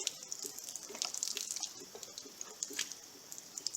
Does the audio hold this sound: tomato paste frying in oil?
no